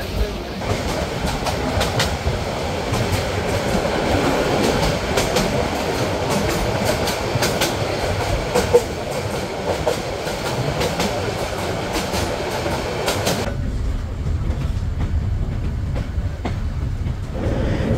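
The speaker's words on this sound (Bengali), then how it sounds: "ট্রেনটি এখন অতিক্রম করতে চলেছে সেই বহুল আলোচিত সেতুটিতে" Porjotok Express passenger train running along the rails from Cox's Bazar toward Dhaka, approaching a bridge, with a steady loud rumble and clatter of wheels that drops to a duller, quieter roar near the end.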